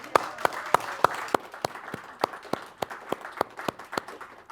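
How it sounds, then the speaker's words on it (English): An audience at the close of a live faith-themed show claps in a sparse, uneven rhythm, a few loud close handclaps standing out over softer clapping, with no talking. "Please give a round of applause for Jenna Engel."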